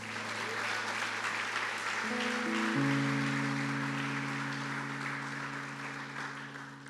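A church congregation applauds, a broad wash of clapping over sustained organ or keyboard chords that build and hold beneath it.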